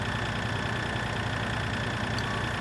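A tractor engine pulling a large trailer in the video game Farming Simulator 2013 runs with a steady, loud, continuous drone and low rumble, with no talk over it.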